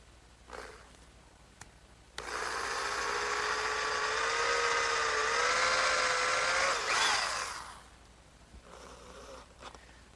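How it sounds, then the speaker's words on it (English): A power drill whirs steadily for several seconds, pre-drilling screw holes in wood for a candle stand, its pitch shifting slightly as it bites in, then winds down, with quiet clicks before and after. "I'm just going to pre-drill those first."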